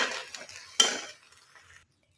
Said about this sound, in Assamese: এইয়া হালধি এতিয়া অলপ লৰাই লওঁ দেই